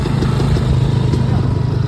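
Motorcycle engine running steadily inside a bar after an enduro beach race, a continuous low rumble with light clatter, loud and close, with people talking over it.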